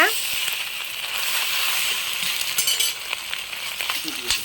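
Boiled macaroni being stirred through egg and chilli in a hot pan, with a steady sizzle and frying hiss under scattered scrapes and light clinks of the spoon.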